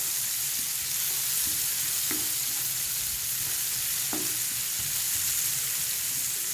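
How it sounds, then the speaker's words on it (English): Onions sauté in a pan without meat for hamburger steak, giving a steady close sizzle and fry with occasional soft spatula scrapes and taps. "I like to saute these without the meat in there until they're translucent."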